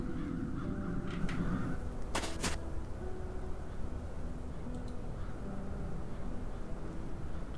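Crows caw in the fantasy adventure game Satinavs Ketten, a few harsh calls at mid distance over a steady ambient game backdrop.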